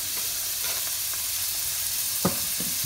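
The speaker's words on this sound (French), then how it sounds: "Alors on commence avec le calmar, on va juste le pré-cuire." Squid pre-cooking in a paella pan, frying with a steady close hiss and sizzle throughout, with a few crackles and one louder pop as it is stirred.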